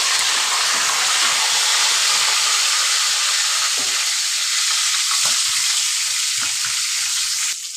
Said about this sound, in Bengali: আমার চিকেনটা পুরো সুন্দরভাবে ভাজা হয়েছে